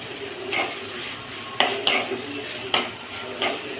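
A spoon stirs tomatoes sautéing in a pan, giving a few sharp metallic clinks and scrapes over a soft low sizzle.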